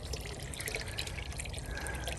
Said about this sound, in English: the solar pump will cycle water from there to there